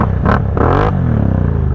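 A four-wheeler ATV on Assassinator tires revs loudly and close, its engine climbing in two sharp surges before settling into a steady, rough idle rumble.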